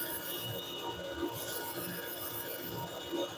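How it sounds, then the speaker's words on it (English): Hand sanding the curved edge of a lathe-turned wooden bowl with sandpaper, a quiet, continuous scratchy rubbing with soft back-and-forth strokes. "And that's where sandpaper can help."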